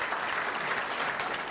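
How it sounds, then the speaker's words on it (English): Audience applause at a Texas Tech University evening honoring Dr. Dean, a steady, dense round of clapping from many hands, even in level and moderately distant. "give another round of applause for Dr. Dean"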